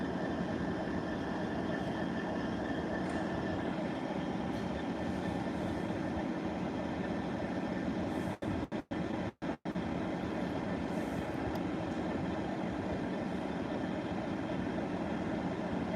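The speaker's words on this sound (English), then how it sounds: "this amazing Class 66 diesel from GB Rail Freight will be leaving" A GB Rail Freight Class 66 diesel locomotive departs with a loud, sustained engine rumble that fills the whole stretch, briefly interrupted by a few sharp dropouts near the middle.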